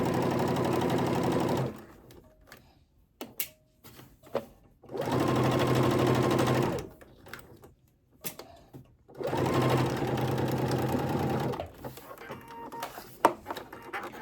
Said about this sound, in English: I'm going to turn it around and continue to stitch all the way down the end